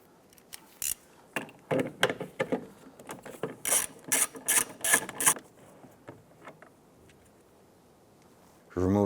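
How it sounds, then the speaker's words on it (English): A socket ratchet with extension clicks through a series of short strokes while removing a 10 millimeter bolt from a 2008-2013 Nissan Rogue front door, close and crisp, ending with a louder thump. "using a socket and extension. We're going to go ahead and remove that 10 millimeter."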